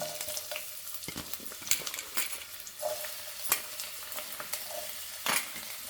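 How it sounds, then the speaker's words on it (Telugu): Oil tempering for an okra fry with onion, green chilli, curry leaves and coriander, giving a steady crackling sizzle broken by sharp pops and clinks of a spoon stirring in the pan. "పోపు ఆయిల్ వేస్తున్నానండి"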